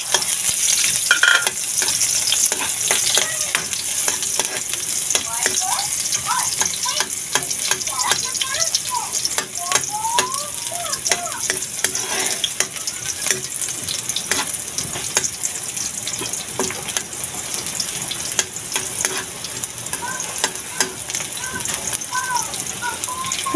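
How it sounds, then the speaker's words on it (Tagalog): Garlic and onions frying in hot oil for a simple tuna dish, a continuous crackling sizzle close up with scattered pops and stirring clatter, running steadily throughout without voices. "Ayan, nagpainit na ako ng mantika. Tapos, ayan, maglalagay na ako ng, ayan, bawang and sibuyas."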